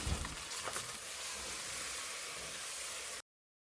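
Mutton sizzles faintly in a pot of hot oil with ginger, garlic, green cardamom, cloves and bay leaves, a soft steady frying hiss that cuts off abruptly.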